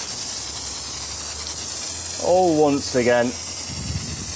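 A pressurized snow foam sprayer coats a car outdoors on a windy day, giving a steady, close, continuous hiss that runs the whole time while someone talks briefly over it.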